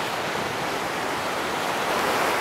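Ocean waves wash in at Miami Beach, Florida, a steady broadband roar of surf filling the moment without a pause, no talking.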